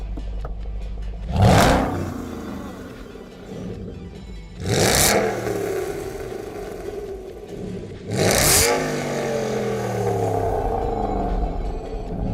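Three loud revs from a 440-horsepower Aston Martin GT8 sports car engine, each a sharp roaring burst that quickly falls away, spaced a few seconds apart with a steady idle rumble between them.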